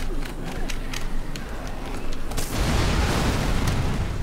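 An explosion goes off in the video game Dead Rising 3, a loud booming burst that swells into a sustained roaring rumble after scattered clicks and thumps.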